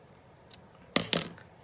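Scissors cutting strips of paper ruffles apart, two quick sharp snips close up after a faint earlier rustle, quiet otherwise.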